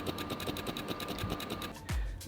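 Autofocus motor of a Sony 50mm F1.8 lens, a rapid rattling whir pulsing steadily, faint and close, ending in a short low thump.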